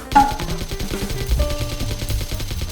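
Machine gun fire in a video game comes as rapid, evenly spaced bursts of loud automatic shots, close and continuous, with some game tones layered underneath.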